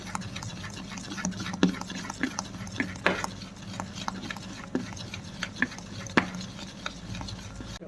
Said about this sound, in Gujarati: અને ઈનો નાખી અને સારી રીતે બેટરને ફીણી લેવાનું છે।